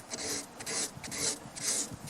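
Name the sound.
sanding paint on a 1934 Pacific Model 107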